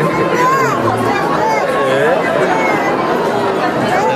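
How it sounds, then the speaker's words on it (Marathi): Dense crowd chatter fills a packed queue at a goddess temple during the sixth day of Navratri, a steady babble of many voices close around with individual voices rising briefly. "आता इथे खूप गर्दी आहे"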